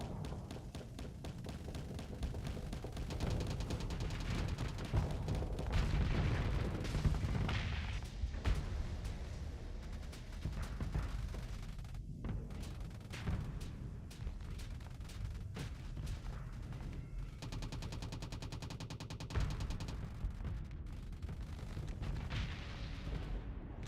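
Starship weapons on auto fire in the space combat game Starsector pound out a continuous barrage of rapid blasts and booming impacts, loud and dense, with no talking over it.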